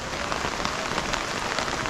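Heavy rain pours steadily during a storm in Camarines Norte, a dense, continuous hiss of drops drumming on surfaces, loud and close throughout with no pauses.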